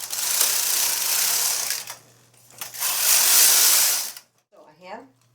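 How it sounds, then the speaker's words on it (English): A knitting machine carriage makes two long, loud whooshing mechanical passes while knitting rows for a hem, with a brief gap between them. A short spoken phrase follows once it stops. "I'm going to knit about 20 rows or 19 more rows so I can"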